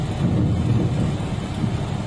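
Heavy, steady rain pours down during flooding in Singrauli district, with swollen rivers and streams; a dense, continuous low roar of downpour fills the whole stretch without a break, and no voices are present.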